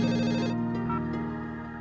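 A telephone rings in a television drama scene, one continuous tonal ring sounding alone with no talk over it.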